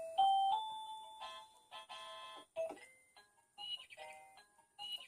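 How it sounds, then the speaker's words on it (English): A MECO wireless doorbell receiver plays a chime tune of bright electronic notes mixed with synthetic bird chirps, a clean melodic sequence with brief gaps, heard close and alone. "So that's a song that has little birds chirping"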